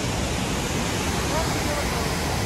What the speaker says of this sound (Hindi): पीछे झरना बह रहा है, बहुत पास है